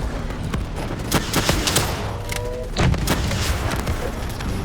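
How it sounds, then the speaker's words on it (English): Explosive spikes blast in Call of Duty Black Ops III, a loud run of sharp booms and crackling bursts hitting in quick succession, close and dense, with a heavier thud near the end. "Explosive spikes incoming! Look out!"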